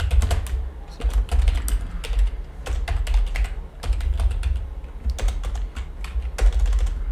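Steady typing on a computer keyboard while entering SQL data, with quick irregular bursts of key clicks and occasional louder keystrokes over a low background hum.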